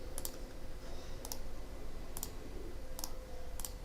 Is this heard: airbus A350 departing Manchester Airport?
no